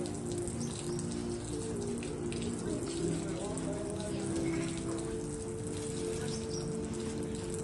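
Water poured steadily over a body during a bathing demonstration, a continuous splashing hiss with a low hum beneath, constant and close throughout.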